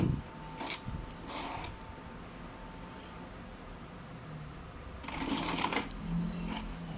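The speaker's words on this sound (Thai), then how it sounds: "มันจะปริ้นออกมานะครับผม อันนี้ในกรณีที่เราจะถ่ายเอกสารหลายแผ่นนะครับผม" An Epson L series printer makes multiple copies, its mechanism whirring and clattering in short bursts over a steady low hum, the feed noise returning and growing busier toward the end.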